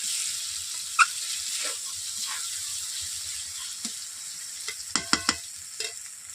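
Spice masala fries slowly over low heat for a Bengali rohu fish curry, giving a soft, steady hiss broken by a few light stirring clicks toward the end.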